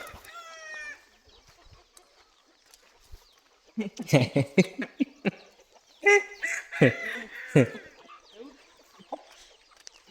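Desi country chickens on a free-range poultry farm: a short rooster crow opens, then after a quiet stretch come loud, close bursts of clucking and squawking in two clusters.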